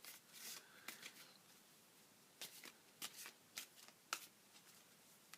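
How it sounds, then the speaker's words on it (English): Tarot cards are shuffled by hand, giving a steady run of soft, close riffling and flicking with several sharper snaps, quiet and alone with no talk. "I'm shuffling these cards."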